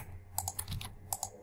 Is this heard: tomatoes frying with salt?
no